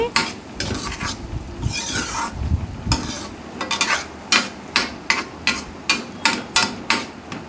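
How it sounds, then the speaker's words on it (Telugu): Onions frying with turmeric and salt for a dondakaya (ivy gourd) fry, Andhra style; loud sizzling, then a fast, regular run of spatula strokes knocking against the pan toward the end, close up with no talk. "ఈ మొత్తం కలిసే విధంగా ఈ విధంగా కలిపేసుకొని మరొక నిమిషం ఫ్రై అవ్వనివ్వండి"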